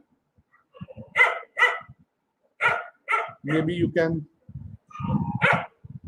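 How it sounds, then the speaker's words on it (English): Dogs bark in short bursts, several sharp yaps spaced apart, with a person speaking briefly between them. "I hope the dogs in my neighborhood are not affecting your listening to me"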